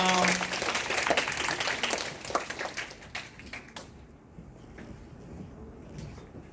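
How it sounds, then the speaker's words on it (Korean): A church congregation applauds at the close of a Korean worship service, loud clapping that builds for a few seconds and then thins to scattered claps and quiet. "감사의 박수와 마치겠습니다"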